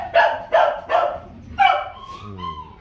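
A Vietnamese bobtail dog barks several times close by, sharp loud barks followed by a lower rumbling growl and a whining tail.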